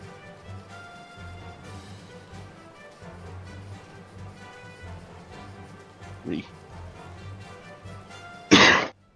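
A single sharp, loud cough bursts out near the end after a stretch of faint background sounds.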